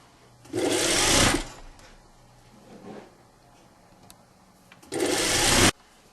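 A sewing machine overcasts a seam on a belted shirt-tunic in two loud, close bursts of rapid stitching. Quiet handling and faint rustling fill the gap between the runs.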